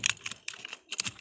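Computer keyboard being typed on in quick, uneven clusters of close, crisp key clicks over about a second, entering a search with no voices.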